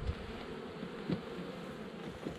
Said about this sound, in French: Ça veut dire que là, tu as combien d'abeilles dans cet essaim à peu près?